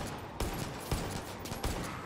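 Rifle fire from an M1A1 in the shooter game Far Cry 5, zombie mode: three sharp, loud single shots spaced roughly evenly over two seconds, each cracking out over a steady background bed of game noise.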